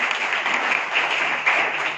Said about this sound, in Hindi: एक बार जोरदार तालियां एहसान अब्बासी साहब के लिए।